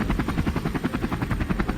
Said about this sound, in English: bringing the chopper low over the ground